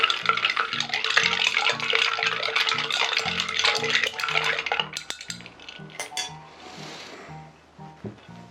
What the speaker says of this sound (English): give that a good mix. Make sure all of those wonderful flavours are blended together and chill down the mixture.